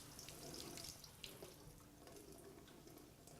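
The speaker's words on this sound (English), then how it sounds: "Just going to rinse it under some cool water to stop the cooking process." Cool tap water runs steadily into a kitchen sink, rinsing freshly cooked couscous to halt the cooking; a continuous close splashing hiss with no talk.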